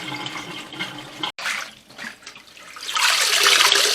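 Water drains out of a kitchen sink after washing basil, a close gurgling rush that breaks off briefly, then swells into a louder, hissing flow toward the end.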